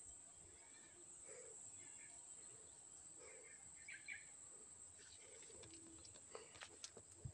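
A young starling chick calls outdoors near a garden, giving faint, scattered short chirps over a steady high insect drone, with a few soft clicks and knocks near the end.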